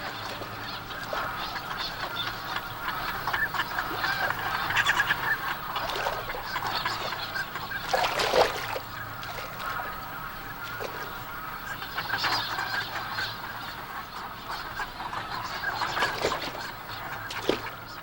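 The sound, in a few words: migratory waterbirds (geese, ducks) at Upo wetland in autumn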